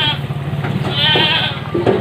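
Goats bleating loudly and close by while being loaded into a car bound from a livestock market, several wavering cries overlapping with some background noise.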